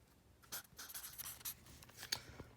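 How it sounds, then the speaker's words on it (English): An invisible ink pen scratches briefly across paper, a few soft, close strokes with light tapping, no voices. "I could write something down like"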